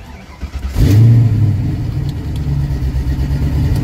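A car engine tuned with MegaSquirt fires up with a short cranking whir, catches into a loud rumble, then settles into a steady low idle.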